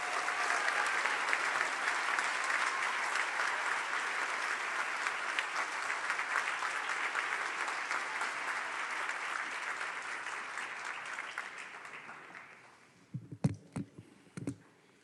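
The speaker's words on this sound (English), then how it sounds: "let's give everybody a big round of applause again" Audience applauding at a graduation pledge ceremony for final-year health sciences students, dense steady clapping from a large crowd that thins out and stops near the end, followed by a few isolated loud knocks.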